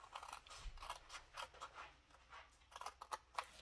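Scissors cut through material for a triangle box, giving a series of quiet, crisp snips in an irregular rhythm at close range with no talking.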